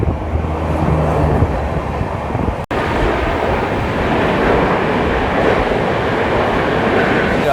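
Deccan Janshatabdi Express, CSMT Mumbai to Hingoli train 12071, running behind a Kalyan shed WAP-7 electric locomotive, a loud continuous roar of wheels and rushing wind heard close from aboard, with a brief dropout early on.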